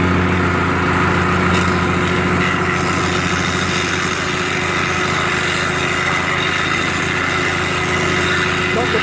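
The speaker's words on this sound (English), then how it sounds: "I can now compact down that last bit of aggregate that I put in" A small engine drones steadily and loudly throughout with a buzzing, vibrating rumble, close by, as a compactor packs down aggregate at a cabin build.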